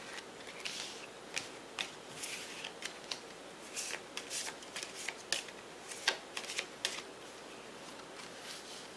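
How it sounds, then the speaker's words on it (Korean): A deck of tarot cards is shuffled by hand up close; faint, soft riffling and scattered light card taps and snaps come in quick irregular bursts over a quiet room hush. "지금 제가 이 카드들을 한번 섞어서 놓을 테니까"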